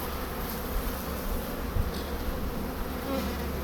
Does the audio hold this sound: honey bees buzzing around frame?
yes